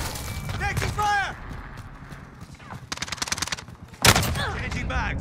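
Gunfire from the shooter game Call of Duty: Modern Warfare, a burst of rapid shots in the middle followed by a loud blast, with shouted voice lines from the game over it.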